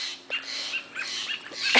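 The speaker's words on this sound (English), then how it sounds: "and as you can hear, the birds are going crazy." Garden birds, including robins, call in agitated, scolding squawks at a cat that has caught a baby robin; the calls are faint and distant against steady background hiss.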